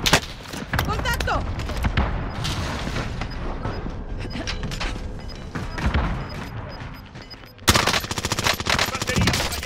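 Machine guns and other weapons fire in dense, sustained bursts in Call of Duty: Modern Warfare, with booms and mechanical clatter. The battle stays loud throughout, briefly dips, then resumes at full intensity, with shouted voices partly audible in the mix.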